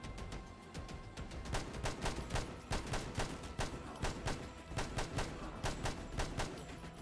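Rapid gunfire in the Fallout London video game, steady, evenly spaced shots repeating for several seconds at moderate loudness, with no talk over them.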